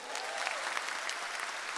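A crowd at a stand-up comedy show applauds the volunteers in a dense, continuous patter of many hands, moderately loud and steady throughout.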